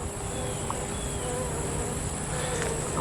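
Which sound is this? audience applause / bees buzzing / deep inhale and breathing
bees buzzing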